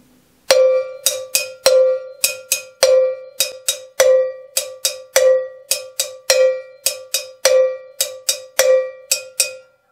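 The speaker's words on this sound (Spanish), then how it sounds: "Primer golpe se hace con el borde y otros dos con la punta." Cowbell on a drum kit struck in a repeating three-note figure, the first hit on the edge and the next two with the stick tip, crisp, loud and close, ringing alone in steady rhythm.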